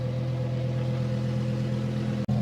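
A Lamborghini Huracan Technica with a Ryft titanium exhaust idles close by, a loud, steady low rumble that holds evenly throughout and drops out for an instant near the end.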